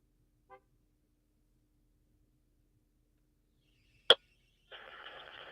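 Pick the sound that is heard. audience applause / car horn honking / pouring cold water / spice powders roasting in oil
car horn honking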